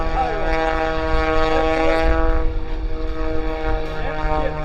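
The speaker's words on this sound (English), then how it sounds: "That's Stewart in the biplane." A biplane's propeller engine drones loud and steady at an air show in Fort Wayne, its whining harmonic tone shifting in pitch as the aircraft passes.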